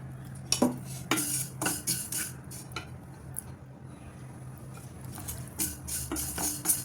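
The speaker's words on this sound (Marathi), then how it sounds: "सर्वात अगोदर आपण तीळ भाजून घेणार आहोत" Sesame seeds dry-roasting in a pan without ghee, with faint patter and soft scraping from a utensil stirring them, plus a few sharp clinks of metal against the pan over a low steady hum.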